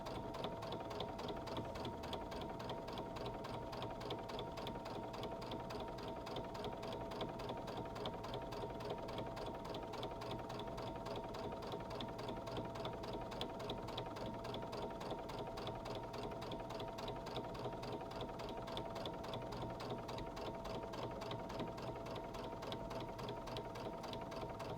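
A sewing machine stitches a quilt block in a steady, fast mechanical whir of even needle strokes. It runs alone and unbroken at a quiet, moderate level.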